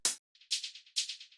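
Crisp, punchy high-end hi-hats for modern acid techno tick in a quick electronic pattern, loud opening hits followed by softer sixteenth-style taps that repeat in a tight loop, with no voices.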